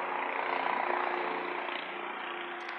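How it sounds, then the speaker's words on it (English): A steady, broadband rotor drone from helicopters in the air over a downtown Charleston, South Carolina protest, continuous and moderately distant, with no other notable sounds. "still hear the helicopters in the air."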